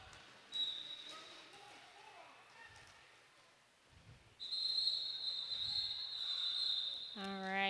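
A referee's whistle sounds at a hockey game, with a thin sustained tone first and then a longer, louder blast over arena crowd noise, closing with a horn-like sound.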